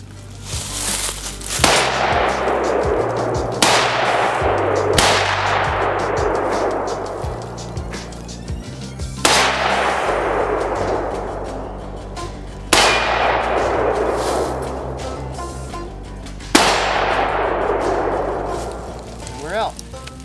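A Springfield M1A rifle fires repeatedly at steel targets in a backyard range, loud cracks at irregular intervals with ringing metallic clangs decaying after each, while people talk in the background.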